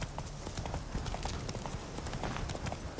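Hoofbeats of the horse Roach trotting in a video game: a steady, close clip-clop rhythm running throughout at even volume, with no talk over it.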